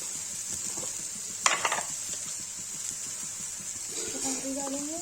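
Potatoes frying in a pan, a faint continuous sizzle with light spoon scraping and a brief utensil clatter, while someone speaks quietly over it.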